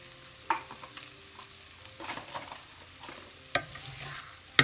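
A spoon stirs food in a hot pan with Parmesan cheese, giving soft scraping strokes over a faint sizzle and a few sharp clinks against the pan, close and unaccompanied.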